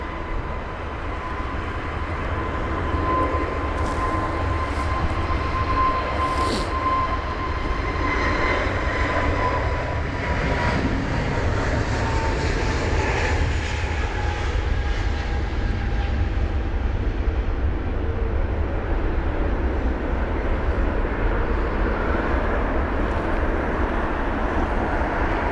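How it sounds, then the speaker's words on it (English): A TAP Air Portugal Airbus A321neo departs Heathrow in wet spray for Lisbon, a sustained loud jet roar building and holding steady across the whole stretch, with a low rumble beneath and a faint whine riding on top. "And there's our next departure off to Lisbon."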